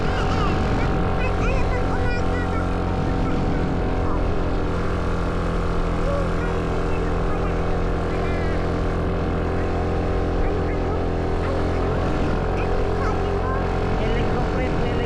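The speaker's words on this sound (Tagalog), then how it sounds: "Helicopter, helicopter." Rotor and engine drone from a helicopter flying over a village fills the scene, a loud continuous thrum with steady low harmonics that stays close throughout, while people talk under it.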